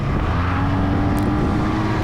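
A motorcycle engine on a mountain road through the Boz Dağlar near Ödemiş drones steadily and loudly up close, its rising drive while overtaking a car blending into continuous wind and road noise.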